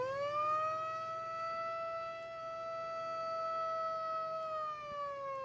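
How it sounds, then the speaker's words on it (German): Ranch siren in New Mexico sounding to call horses in to feed, one long sustained wailing tone that holds steady and slowly dips in pitch, loud and alone. "Denn die Tiere wissen genau, ertönt die Sirene, gibt es dort leckeres Futter für sie"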